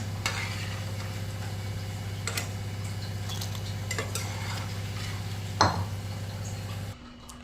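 Koftas frying in hot oil in a pan, a steady sizzle with a few scraping clinks as they are lifted out; a sharp clatter near the end, then the frying sound cuts away.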